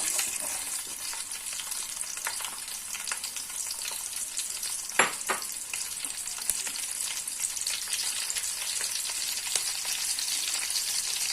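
Green chilies and onions frying in ghee, a continuous even sizzle with a few brief spatula scrapes and taps midway, steady and close with no talking.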